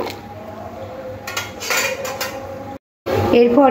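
A kadai being scrubbed clean after cooking dal, with metallic scraping and clinking of the pot under a steady background hum, a brief silent break, then brighter clatter; a voice speaks briefly.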